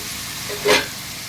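Ginger-garlic paste frying in oil for a dry chicken kosha, a steady low sizzle with one brief louder hiss of stirring near the end, close up with no voices.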